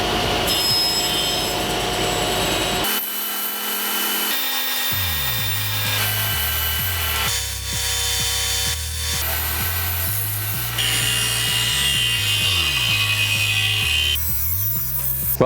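A saw cuts through wood for floating shelf parts in a workshop, with repeated passes of rasping, grinding strokes and brief pauses between cuts, loud and close with no talking.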